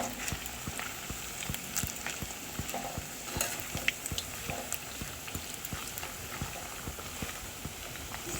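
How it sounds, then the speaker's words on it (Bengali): Fish pakoras deep fry in hot oil over a medium flame, giving a steady, quiet sizzle broken by frequent soft crackles and pops, with no one speaking. "মাছের পকোড়াগুলিকে একদম মিডিয়াম আঁচে ভাজতে হবে"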